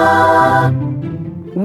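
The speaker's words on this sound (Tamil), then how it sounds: "பிங்கியோட சத்தம் எப்படி இருக்குன்னு கேக்கலாம்." Pinki, a character in the Sprunki video game, sounds off with a bright, sustained harmonic tone that drops into a lower drawn-out hum and ends on a short upward bend. It is fairly loud and clear, with no talking.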